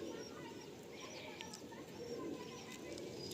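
Madrasi pigeon softly cooing in a low, murmuring tone under faint background noise, with occasional higher chirps from other birds nearby.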